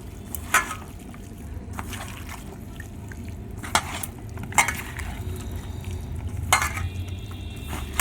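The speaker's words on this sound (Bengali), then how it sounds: "এবার ভালো করে আমি মাখিয়ে নেবো" Chicken pakora pieces are mixed with onion and red food colouring, making soft, wet squelches and scattered clicks of stirring, fairly quiet over a low background hum.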